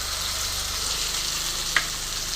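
Ground coconut paste frying in hot tempered oil with spices, a dense continuous sizzle heard close up with one brief clink of a utensil, and no one talking.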